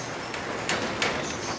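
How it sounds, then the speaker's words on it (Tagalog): Heavy rain pours steadily at a pigeon loft and aviary, a dense even wash of noise with a couple of brief louder splashes or knocks partway through. "Ayan nga, lakas ng ulan dito."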